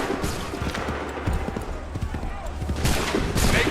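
Musket volleys crack across an Assassin's Creed III battlefield, with sharp scattered shots, hoofbeats and battle clamor throughout and a louder burst of gunfire near the end, while voices shout over it.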